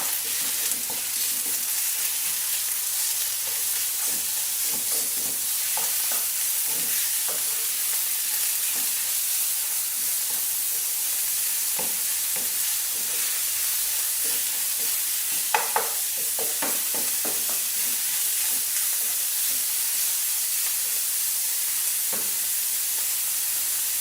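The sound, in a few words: kofta meat frying and sizzling in a pan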